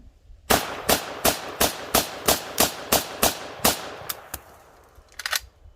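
An Inland M1A1 paratrooper carbine fires at a range: about ten sharp, evenly spaced shots in quick succession, then two spaced shots and a short rattling clatter at the end.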